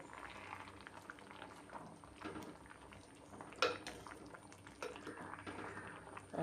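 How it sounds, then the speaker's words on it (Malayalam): Quiet bubbling of olan curry boiling in coconut milk in a covered, steaming pot, a soft continuous simmer with occasional louder pops and a light clink. "നന്നായിട്ട് തിളച്ച് വരുന്നുണ്ട് ആവി അടിക്കുന്നതുകൊണ്ട്"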